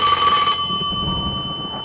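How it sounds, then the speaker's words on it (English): A telephone rings in a house, a bright steady electronic tone that sounds loudly for about half a second and then fades into a quieter lingering ring. "But now the phone rings."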